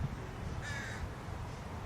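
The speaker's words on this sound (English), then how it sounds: "This crow is trying to tell y'all something" A crow caws in an outdoor garden, one brief call a short distance away over a steady low background rumble. Nobody speaks.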